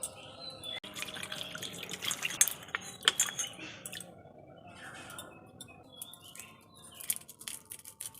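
Scraped carrots are rinsed under running water in a kitchen, giving faint drips, splashes and light clinks that come and go over several seconds with no talking.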